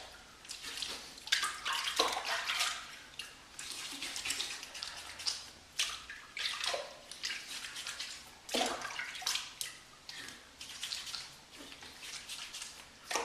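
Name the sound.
rinsing safety razor under running water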